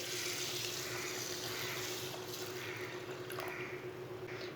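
A glass of water is poured onto cleaned masoor lentils, giving a steady, soft liquid rush and splash that continues throughout at a fairly quiet level.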